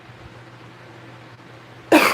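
A single loud cough bursts out at the very end after a stretch of quiet room tone, close to the mic from a woman with a cold sitting at home.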